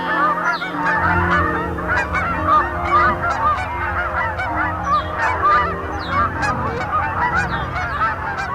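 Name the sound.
Canada goose honking call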